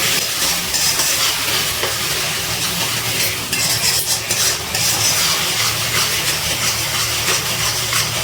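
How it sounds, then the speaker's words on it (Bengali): Ginger, chilli and tomato paste with a splash of water is sautéed in a pan and stirred, a continuous close sizzle and bubbling broken by repeated scraping strokes of the spoon. "এবার মশলাটা কিছুক্ষণ একটুখানি কষিয়ে নেব"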